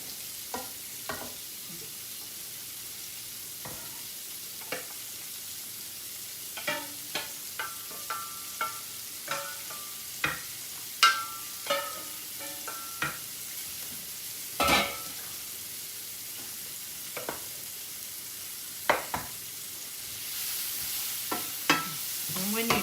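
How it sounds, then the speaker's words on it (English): Pasta is stirred into a New Orleans-style Creole sauce in a hot pan, with a soft sizzle under a series of irregular scrapes and clinks from the spoon against the pan, close and fairly quiet. "I'll go ahead and add my pasta to my sauce."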